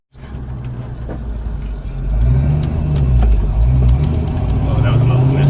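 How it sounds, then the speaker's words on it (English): A Ford Mustang with its turbo removed drives on a test run, its engine a loud, close, steady drone that swells and holds as it accelerates. A voice can be heard faintly under the engine noise. "It's weird driving it with no turbo."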